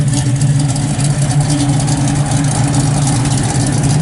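A 1971 Chevrolet Nova SS 454 idles with its electric exhaust dumps open, a loud, steady, deep rumble with a heavy low throb that stays constant throughout.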